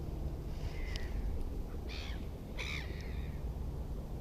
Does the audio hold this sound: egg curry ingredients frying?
no